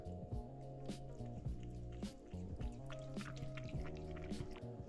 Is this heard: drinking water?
yes